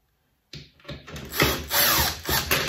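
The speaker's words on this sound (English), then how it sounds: "we need to take out all 6 of these screws" Screw gun backing screws out of an Arcade1up arcade cabinet's wooden back panel, a close, loud whirring drill burst after a moment of silence, rising and dipping in short pulses.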